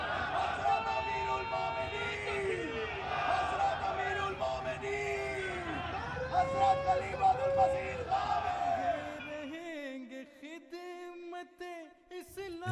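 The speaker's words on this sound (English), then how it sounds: "excitement could be felt throughout the crowd as they rushed after Huzur" A crowd of people yelling and cheering excitedly as they rush through the streets of Peace Village in Canada, a dense roar of overlapping voices that thins to a few distinct shouts near the end.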